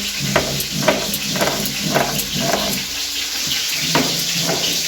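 Flat beans sizzle and spit in hot oil in a home kitchen, a bright steady hiss punctuated by regular clattering stirs, close and fairly loud with no one speaking.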